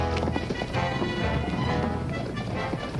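Several horses trot in a 1939 western serial, making a busy, fairly loud clip-clop of overlapping hooves in an irregular rhythm with some rustling mixed in.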